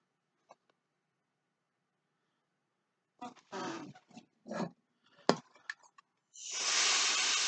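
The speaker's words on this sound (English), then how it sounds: "Actually, it's just canned air" After a few faint clicks and rustling noises, a steady spray hisses loudly and continuously at close range.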